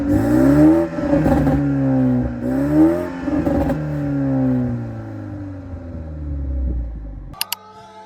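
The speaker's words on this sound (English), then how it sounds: "So now I'm just gonna rev the car and then you can listen to this updated exhaust system." A BMW G20 330i with an updated exhaust revs repeatedly, its engine pitch rising and falling in several loud sweeps, then settling before a few sharp clicks at the end.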